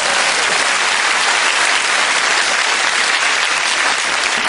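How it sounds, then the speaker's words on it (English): Studio audience on a British topical comedy panel show bursting into loud, sustained applause, dense and even clapping filling the whole stretch without talk over it. "Let's have a round of applause for women in engineering."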